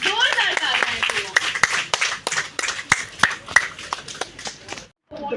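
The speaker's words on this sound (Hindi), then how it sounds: "जोरदार तालियां।" An audience claps to welcome a guest at a cultural event, brisk uneven hand claps lasting about five seconds before a brief silence, with a voice faintly mixed in.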